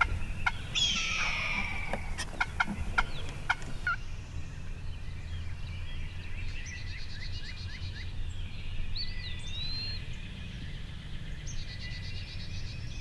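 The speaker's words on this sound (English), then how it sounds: "we had a lot of gobbling activity" Wild turkeys gobbling outdoors during a hunt, several gobbles at a moderate distance in the first few seconds, then fainter distant calls over steady background hiss and other birdsong.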